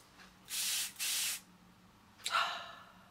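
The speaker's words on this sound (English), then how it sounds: "so this is a very fine mist of water." La Roche-Posay Thermal Spring Water is sprayed as a fine mist in two quick, close hissing bursts, followed a moment later by a softer breathy exhale.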